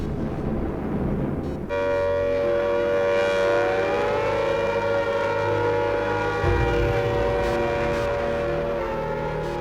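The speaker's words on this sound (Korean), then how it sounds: "일본군의 공습이 시작되면 사방에서 사이렌이 울렸다" An air raid siren wails loudly and continuously during a Japanese air raid on wartime Chongqing, its tone rising and falling slowly over a low background drone.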